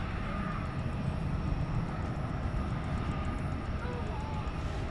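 Jet airliners departing DFW Airport at night, a steady loud roar of engine noise filling the scene with broadband rumble, continuous and sustained without breaks.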